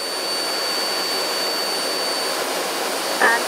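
Inside a Jet Provost JP5 jet trainer in flight, a steady, loud engine roar and rushing noise fill the cabin without a break, with a high tonal whine running under it.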